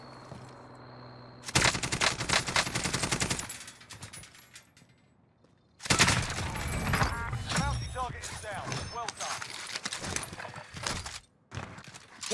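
An RPD light machine gun fires in a video game in two long, loud sustained bursts of rapid shots separated by a short quiet gap, with spent-casing tinkles and game effects under the later stretch.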